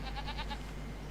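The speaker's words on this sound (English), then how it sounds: "Any baby goats for us to look at?" A goat in the farming game Farming Simulator 25 lets out a short wavering bleat of rapid pulses, close and clear over a low steady hum.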